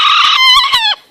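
A rooster crows once, a loud harmonic call held for about a second before breaking off sharply at the end.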